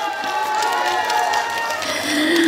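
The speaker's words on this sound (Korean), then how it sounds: "큰 박수로 모시겠습니다" Crowd cheering and applauding at an outdoor seaside summer song festival stage on Ilgwang Beach, a steady, dense roar of clapping and voices that swells slightly toward the end.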